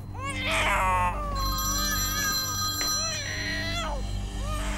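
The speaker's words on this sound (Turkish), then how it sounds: "Telefonu çalıyor." A telephone rings in a home with repeated warbling electronic trills, loud and close, while a baby cries and whines over it in bursts.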